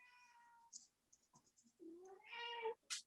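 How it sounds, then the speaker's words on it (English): A cat meows close by in several drawn-out, rising and falling calls, with a few faint clicks and soft rustles between them. "Meow."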